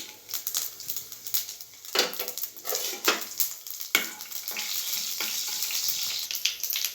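Mustard seeds and dried red chillies sizzle and crackle in hot oil for a South Indian gongura dish, a steady close fry with sharp popping bursts throughout and no talking.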